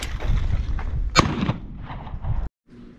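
A Mossberg 590M magazine-fed 12 gauge pump shotgun fires outdoors, two loud, sharp blasts with a booming tail, and the pump action clacks between them.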